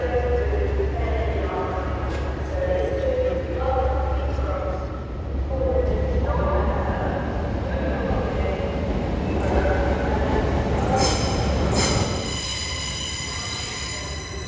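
An Intercity 125 high speed train rumbles steadily alongside a station platform with low engine drone, then a sharp high wheel squeal near the end, faint voices in the background.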